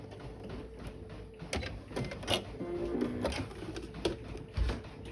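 A sewing machine backstitches along the seams of a Roman chasuble, giving a quiet mechanical whirring with rapid clicking and a few sharper knocks, close by and without any talking.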